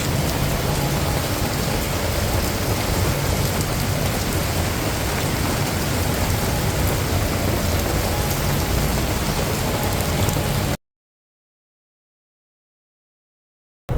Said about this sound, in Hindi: ये देखिए बारिश।